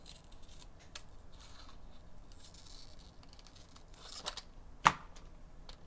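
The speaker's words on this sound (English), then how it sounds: "while I'm cutting it, I'm holding it, cutting along the edges like this." Scissors cut paper along its edges up close, quiet crisp snips and rustles with a sharper snap near the end, no voices.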